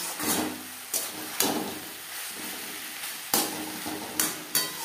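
Green papaya being stirred with ghee and spices in a hot pan: close scraping strokes of a spatula in repeated bursts over a soft, steady sizzle.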